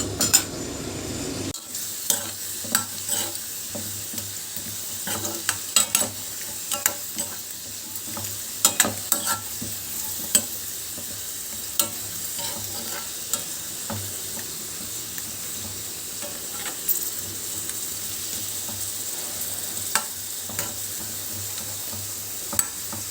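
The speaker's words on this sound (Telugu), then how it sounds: "ఇందులో మామిడి అల్లం ముక్కల్ని ఫ్రై చేసుకుందాము." Mango ginger pieces fry in oil in a pan with a continuous close sizzle, punctuated throughout by sharp clinks and scrapes of a metal spoon stirring against the pan; nobody speaks.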